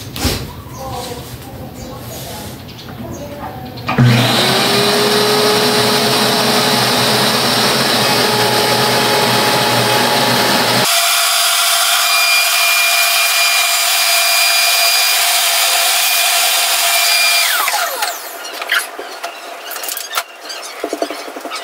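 A vacuum cleaner runs loud and steady with a whining tone during household general cleaning, starting abruptly after talk, changing pitch midway, then cutting off near the end as talk resumes.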